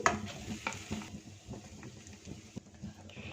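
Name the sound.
stirring mashed potatoes into spiced mixture in pan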